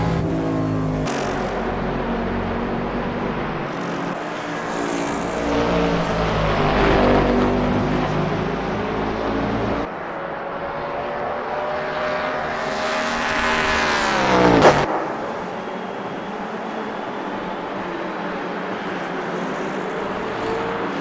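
NASCAR Next Gen race car in the racing game Automobilista 2, its loud V8 engine roaring up through the revs, cutting sharply on gear changes and downshifting hard into corners, close and continuous.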